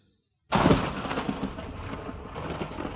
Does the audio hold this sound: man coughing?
no